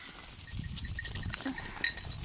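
Sheep bleating faintly amid outdoor rustling and a few light clinks in a plum and apple orchard in autumn, with a short bleat standing out near the end.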